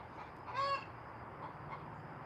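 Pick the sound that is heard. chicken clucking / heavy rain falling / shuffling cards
chicken clucking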